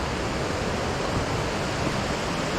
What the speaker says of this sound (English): standing at the toes of Dix Creek Falls